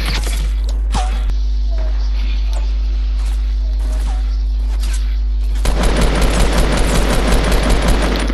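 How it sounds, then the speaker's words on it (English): Automatic gunfire in the video game Fortnite, loud rapid bursts that turn into a dense sustained volley in the latter part, with players talking over it. "shoot, shoot, shoot, they're shooting me."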